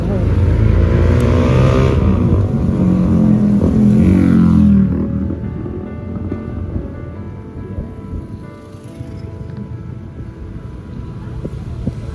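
Heavy rain pours steadily during a mountain hike on Gunung Prau, loud and dense at first, then easing to a softer patter on surfaces, with voices speaking faintly beneath it.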